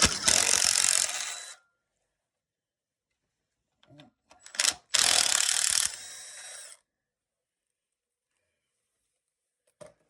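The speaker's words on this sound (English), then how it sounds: "So what we're going to do is just remove these studs." Power tool or impact driver whirring in bursts as studs are removed from a car starter solenoid, two loud mechanical runs separated by quiet pauses and small clicks.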